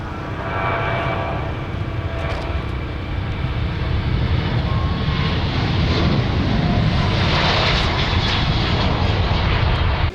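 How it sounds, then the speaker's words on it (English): Ukraine International airliner taking its takeoff roll at Lviv airport, a loud steady jet engine roar that builds and holds throughout, heard from a spotting point near the runway with no talking. "The Ukraine International is rolling, and it will be airborne very soon"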